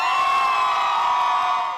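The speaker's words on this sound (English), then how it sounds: "the brand H&M opened its doors to a huge, enthusiastic crowd" A huge crowd outside a Detroit H&M store opening lets out a loud, sustained cheer and scream, a bright continuous roar that fades slightly at the end.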